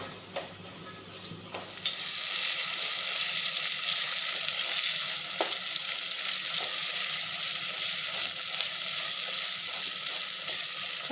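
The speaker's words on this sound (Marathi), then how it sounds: "कांदा भाजून घ्यायचा आहे." Lengthwise-sliced onion fries in oil with asafoetida in a pan. A quiet start jumps into a loud, continuous sizzle near two seconds and holds steady, with occasional soft stirring scrapes.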